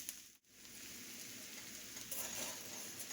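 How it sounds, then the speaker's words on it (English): Smoked red sausage pieces dropped into potatoes frying in a skillet, giving a steady hissing sizzle that swells slightly toward the end, close up with no talking. "And now we're going to add our smoked sausage."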